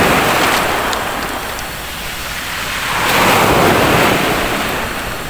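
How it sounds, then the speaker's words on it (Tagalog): Strong ocean waves surge and crash loudly and close by, with a wide roaring wash that swells at the start, eases a little in the middle, then builds again into a second heavy surge. "Malakas na alon."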